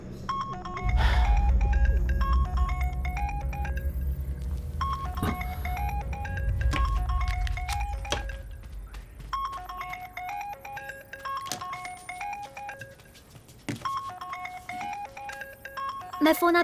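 A phone rings with a repeating electronic melody of bright beeping tones in a dramatic movie scene, playing steadily throughout under low rumbling score and clattering sounds, with occasional sharp knocks.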